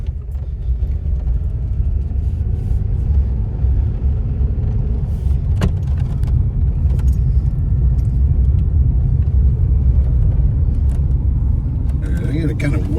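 A car drives on a road and swings around a corner, its engine rumbling low and steady and building slightly, with a close interior drone throughout and a driver talking over it.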